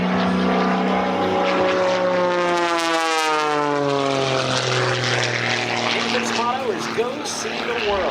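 A de Havilland propeller biplane, originally an RCAF trainer, flies past at an airshow; its engine drone rises and falls in pitch as it passes, loud and steady throughout.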